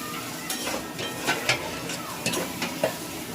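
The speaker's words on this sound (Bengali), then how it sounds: "পেঁয়াজটা কিন্তু ভালো করে একটু লাল করে ভেজে নিতে হবে" Onions fry in a pan for chicken masala, a continuous close sizzle broken by repeated scraping stirs at an irregular rhythm.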